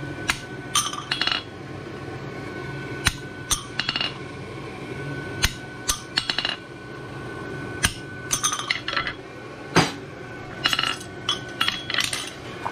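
Back punching nail holes in a forged barshoe horseshoe: a rapid series of sharp, ringing metallic hammer strikes on steel, close and loud, arriving in irregular bursts over a low background hum, with no talking.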